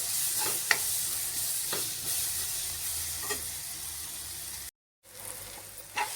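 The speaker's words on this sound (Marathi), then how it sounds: "हा चिरलेला आपण टोमॅटो घालायचा त्याच्यात आणि तो पण व्यवस्थित आता परतून घ्यायचा." Chopped tomato sautéing in a pan with clams over low gas, giving a steady close sizzle with occasional scrape and stir clicks and a brief pause near the end.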